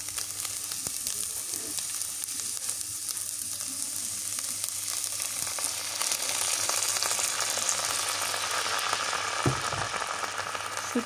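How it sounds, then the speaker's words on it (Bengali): Dried fish with chilies, onion and garlic cooking in a pan with a little water, giving a steady, even sizzling hiss that runs close and unbroken throughout, with no talk. "শুটকিটাও দিয়ে দিই, সিদ্ধ করে নিই, তারপরে তেলের মধ্যে ভাজবো"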